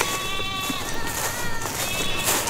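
Goats bleat repeatedly at close range near a creep feeder on a farm, several drawn-out calls overlapping with no talking.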